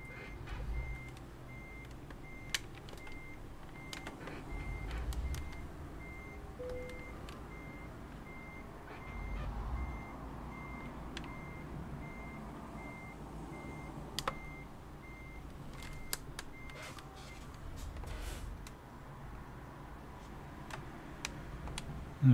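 A truck's reversing alarm in Euro Truck Simulator 2 beeps in a steady, evenly spaced series over a low engine rumble, faint and continuing for a long stretch while the truck backs in.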